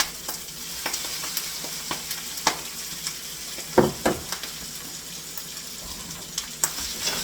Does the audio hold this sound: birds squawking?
no